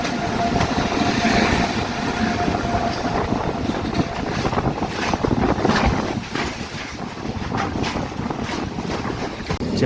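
A passenger train runs on the Rayagada to Koraput line, heard from inside a general coach as a steady, loud rumble with rattling and wind rushing past, continuous throughout, with no talking.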